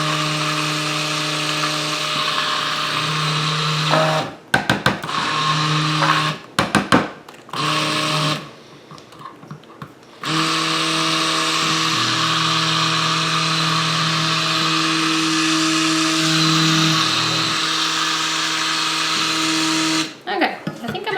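A stick blender whirs loudly and steadily, cutting out briefly a few times with short pauses and clicks before starting again.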